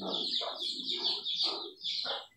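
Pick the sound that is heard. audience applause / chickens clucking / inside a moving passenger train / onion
chickens clucking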